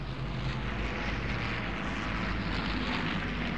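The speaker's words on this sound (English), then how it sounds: "Planes after planes came over." Propeller aircraft drone overhead in a continuous, even roar with a low rumbling engine tone, a steady mass of planes passing during a World War II-era ceremony, faint and distant-sounding, with no voices.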